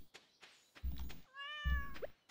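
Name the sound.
cat meowing in video game Stardew Valley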